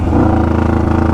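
A 600cc motorcycle-engined go-kart, which had not run since 2003, pulls in first gear with a loud, close, steady buzzing engine drone.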